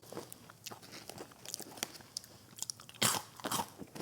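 A caramel-coated cheese puff snack from Buc-ee's is bitten and chewed close up, giving crisp irregular crunches that end in a louder burst of crackling bites, with no talking.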